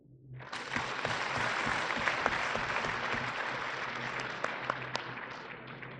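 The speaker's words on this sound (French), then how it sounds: "Merci d'applaudir." Audience applause fills a university lecture amphitheatre at an inaugural academic-year lecture in Senegal, starting abruptly and holding steady as a dense, even clatter of many hands with a few sharper claps standing out.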